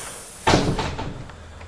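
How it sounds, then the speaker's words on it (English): The front door of a house opens with a single close clunk in a quiet room, followed by a faint scuffing tail. "Walking in the front door here."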